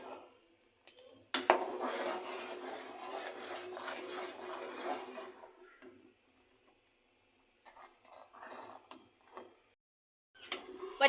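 Homemade ketchup with added salt, chili flakes and black pepper being stirred in a pot: a burst of brisk scraping and clattering at first, easing into sparser, quieter scrapes with brief pauses.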